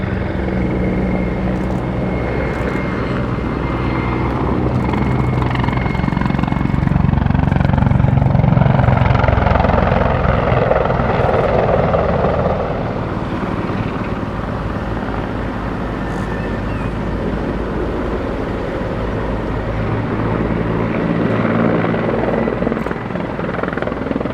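A Mi-35 helicopter flies at the Battle of Britain air show at IWM Duxford, its heavy rotor thump and turbine roar loud and continuous, swelling as it passes nearer and then easing slightly.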